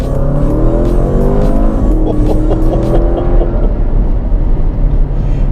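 A 2017 Porsche Panamera Turbo's 4-litre twin-turbo V8 roars loudly up close, its pitch climbing through the revs as the car accelerates hard, then settling into a dense growl.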